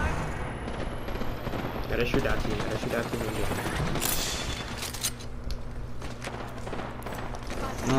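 Rapid gunfire bursts crackle through an Apex Legends match, mixed with game effects and occasional player voices talking over the fighting.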